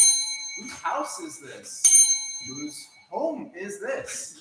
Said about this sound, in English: if I ding this bell